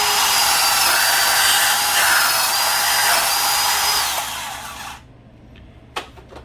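A Milwaukee cordless subcompact bandsaw cuts light metal with a loud, steady high-pitched whine for about five seconds, then winds down and stops, followed by a couple of sharp clicks.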